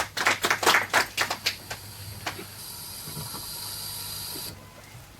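Scattered audience clapping on a quiz show, a quick flurry of close hand claps lasting over a second, then a steady hiss fills the rest.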